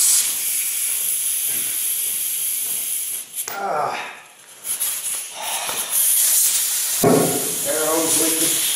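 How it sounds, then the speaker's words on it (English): A leaking air hose gives off a loud, steady hiss that surges and dips in strength, with brief drops in pressure partway through and a renewed rush of air near the end. "Air hose leaking."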